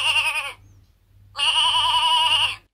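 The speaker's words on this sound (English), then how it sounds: "shall we listen to what a sheep sounds like?" Sheep bleating twice, with a short gap between the calls; each bleat is loud, close and wavering, and nothing else is heard.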